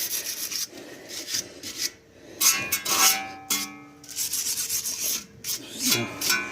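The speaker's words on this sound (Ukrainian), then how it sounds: "Отут посадочну штуку зачищаємо, щоб колесо плотно прилягало, щоб не було ніяких бієній." Wheel hub mounting surface on a car being scraped and cleaned by hand, rough rasping rubbing strokes in uneven bursts with short pauses, close up.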